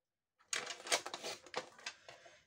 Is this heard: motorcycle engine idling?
no